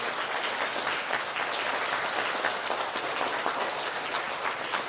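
An elementary school student recognition ceremony audience claps steadily for second and third graders, a dense, loud, continuous wash of applause filling the whole stretch with no talk.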